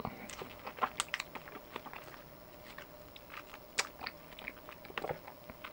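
Close, quiet biting and chewing of white achacha fruit pulp, with soft irregular crunches, wet clicks and mouth sounds spread across several seconds and no talking.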